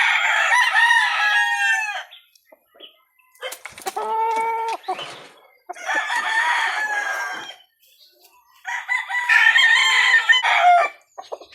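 A nine-month-old straight Golden Boy Sweater gamefowl rooster crows loudly and close, four long separate crows with short pauses between them.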